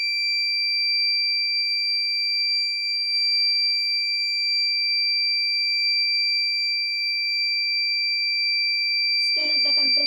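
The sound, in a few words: temperature alarm buzzer on transformer monitoring circuit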